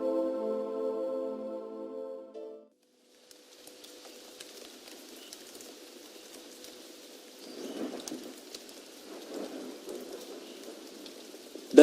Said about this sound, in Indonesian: dan kami turunkan hujan dari langit.